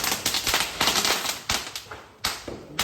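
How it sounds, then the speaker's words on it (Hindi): Diwali firecrackers burst outdoors in a rapid, irregular string of sharp cracks and pops, some louder bangs standing out among the crackling. "अभी हम लोग जाएंगे बाहर पटाखा फटाने के लिए।"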